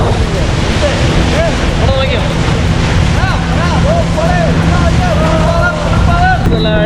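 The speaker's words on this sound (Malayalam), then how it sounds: "നല്ല അടിപൊളി സംഭവമാണ് ഈ സ്പീഡ് ബോട്ട്" A speedboat speeds across the Banasura Sagar dam reservoir, its loud engine drone mixing with rushing water and wind noise throughout, while warbling, siren-like cries rise over the steady roar.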